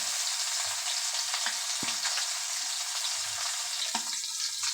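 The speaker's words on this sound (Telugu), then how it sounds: "ఇలా స్పూన్తోనే చక్కగా ఫ్రై చే చిన్న చిన్న పీసెస్గా కట్ చేసుకొని ఫ్రై చేసుకోవాలి" Mutton brain sizzles steadily in a hot pan while a spoon chops it into small pieces, leaving a few sharp clinks and scrapes over the continuous frying hiss. No one speaks.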